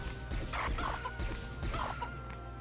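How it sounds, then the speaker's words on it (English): Chickens clucking in the video game Heretic after players are transformed into fowl, a run of mid-pitched clucks and squawks in two bursts over low game background noise, with no talk. "you all become chickens"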